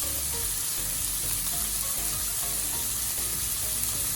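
Beef steak frying in a pan with plenty of butter, a steady close hiss and crackle of sizzling fat throughout, with no voices.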